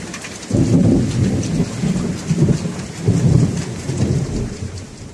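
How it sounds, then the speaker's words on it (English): Heavy rain pours steadily with rolling thunder rumbling through it in several deep swells, loud and close, a continuous wet wash with no voices. "So we decided to do a video of the rain."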